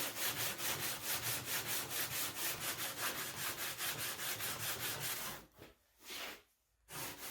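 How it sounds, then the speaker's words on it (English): Hand sanding the edges of a front splitter with 160 grit sandpaper gives steady, rapid rhythmic scratchy strokes, loud and close. After about five seconds the strokes break into short pauses and brief bursts. "I just went over it by hand with 160, just getting everything nice"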